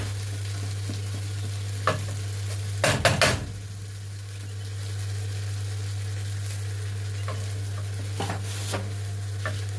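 Food fries in a pan with a steady, even sizzle while it is stirred, with a short burst of utensil scraping and clatter partway through and a few lighter knocks later.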